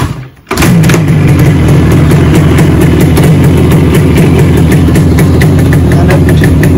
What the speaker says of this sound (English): Just one kick is all you need to start the bike.